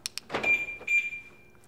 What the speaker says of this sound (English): To unlock your doors of your 6 Series, press the button on the top of the remote